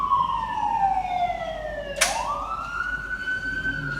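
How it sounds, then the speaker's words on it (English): A wailing siren sweeps down in pitch, then rises again after a sharp click, sounding clear and fairly close with faint background noise and no speech. "remember when you hear that siren?"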